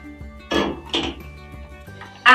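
A pan of boiling water is handled in a kitchen: a few short metallic clinks and knocks close by over a faint steady hum, with a sharper clink at the very end.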